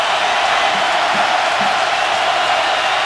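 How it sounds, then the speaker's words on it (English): A football stadium crowd at a Michigan vs Michigan State college game roars as a broad, steady wash of cheering, sustained and loud throughout with no distinct voices. "the crowd coming to life for the first time"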